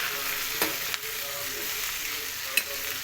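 Vegetables fry in a pan with a constant close sizzle, punctuated by a few sharp clicks of stirring and no talking.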